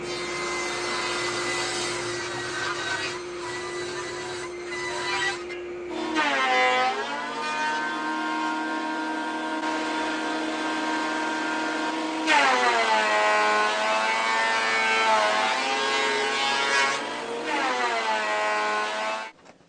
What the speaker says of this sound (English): These big planer shavings sure fill up a dust collector fast.